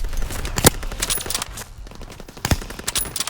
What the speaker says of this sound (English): It's immensely quiet in game. The hit markers are louder than the gunshots.